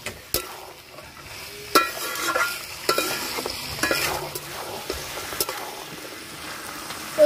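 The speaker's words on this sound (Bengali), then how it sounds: "এবার ভেজে রাখা আলুটা দিয়ে দেব। আলুটা দিয়ে একটু কষিয়ে নেব।" Fried potatoes being stirred and sautéed in a mutton-fat curry for ghugni, a steady sizzle broken by repeated scraping knocks of the spoon against the pan, with no talk.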